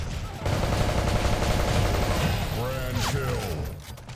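Loud, dense automatic gunfire from the online shooter Blackshot rattles continuously, close and heavy, with game effects and a voice near the end.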